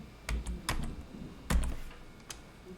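A handful of separate keystrokes on a computer keyboard while typing an email search, close and clear with short gaps between taps.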